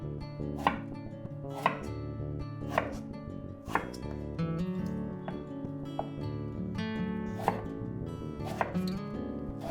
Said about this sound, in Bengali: সরু সরু ধরো এক সেন্টিমিটার মোটা করে কেটে নেবে